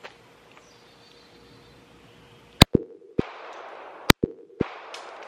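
A SCCY CPX-3 .380 pistol fires six loud, sharp, close shots outdoors at a range, in two quick groups of three separated by about a second, with a quiet, faint background before the shooting.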